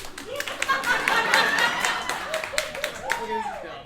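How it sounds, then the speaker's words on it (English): A group claps their hands during a stage performance, a run of sharp claps mixed with voices and crowd chatter. "Everybody clap your hands"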